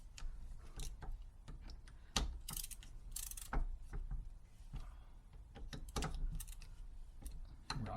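A ratchet snugs the bolts on an injector hold-down plate of a Ford F250 7.3L, giving quick clicking pawl ticks in short irregular bursts with small metallic knocks, close and fairly quiet.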